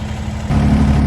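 A Kubota G231 lawnmower engine runs with a loud, close, steady low throb that jumps up in level halfway through as the revs rise.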